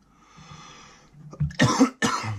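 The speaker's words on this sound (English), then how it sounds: "sorry for coughing" Two or three harsh, close coughs burst out in quick succession after a moment of quiet, each loud and abrupt.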